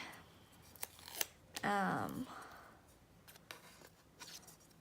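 Scissors snip paper alongside a ruler at a desk, giving a few short, crisp cuts spread through the moment, with a brief louder rustle in the middle. A voice is faintly present.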